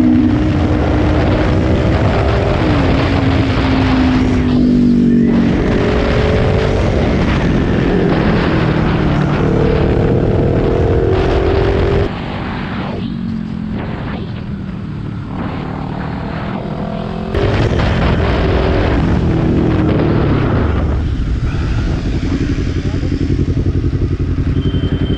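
A Kawasaki Ninja 400 motorcycle is being ridden, its engine keeping up a loud, continuous drone with shifting pitch as it revs and changes gear, along with rushing wind noise throughout and a short stretch where the engine eases off.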